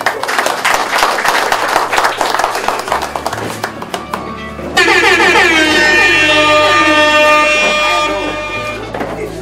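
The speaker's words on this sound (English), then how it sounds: "Let's give a clap of God" Clapping at an Edo community party after a prayer, sharp claps at first under voices, then giving way to loud sustained horn-like tones and music.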